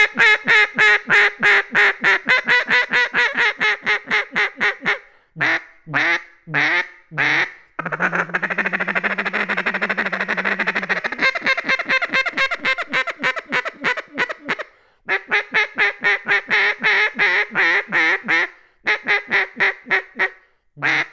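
A wooden Slayer Calls Suzie Slayer duck call, a soft-toned model, blows loud close quacks in rapid descending runs, then a long sustained buzzy hen call, then more choppy quack series, with no talking.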